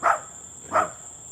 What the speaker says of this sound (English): And not so many barks.